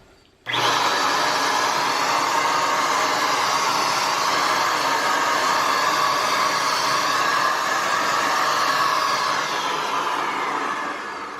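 A loud, continuous motorized whine and hiss from an electric Tacklife paint spray gun starts abruptly and holds steady for about ten seconds, close by.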